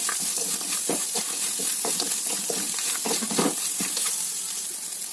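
Ingredients for dry fruits rice sizzle in a hot pan, a loud continuous fry hiss with scraping stirs and clinks of a spoon against the pan, no voices.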